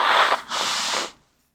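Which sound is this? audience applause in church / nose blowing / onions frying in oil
nose blowing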